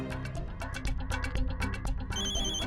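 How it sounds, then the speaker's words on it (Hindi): A telephone rings with a bright electronic tone, sounding in a steady repeating pattern over background music in a comic television scene. "फोन आया।"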